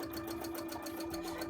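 A sewing machine runs steadily while stitching a bra, giving a continuous, even mechanical whir with a fast regular pulse, close and moderately quiet.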